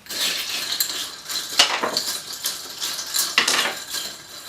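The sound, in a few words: stirring a cocktail with ice in a glass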